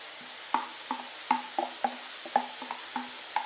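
Carrots fry with salt in a kazan over a full gas flame: a steady sizzling hiss under sharp, rhythmic scrapes of a stirring utensil against the metal pot.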